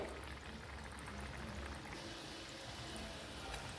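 Potato and semolina vadas frying in hot oil, a continuous bubbling sizzle that stays steady and close throughout.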